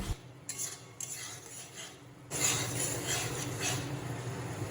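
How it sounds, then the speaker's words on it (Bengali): Spice paste with mustard being fried and stirred in a pan for a pomfret fish curry: a metal spoon clinks and scrapes against the pan, then a louder, denser sizzle takes over as the masala cooks, with no voices. "এই যে মশলাটাকে আমি একটু ভালো করে এখন কষিয়ে নিচ্ছি"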